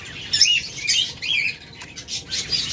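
Albino pet birds, a pair of budgerigars or lovebirds, give repeated shrill chirps and squawks in short bursts, fairly close, over a low background hum.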